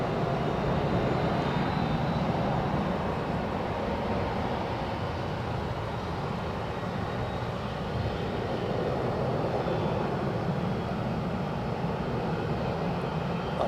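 A Vueling airliner at Edinburgh airport gives a loud, steady jet engine roar that holds constant throughout, with no voices over it.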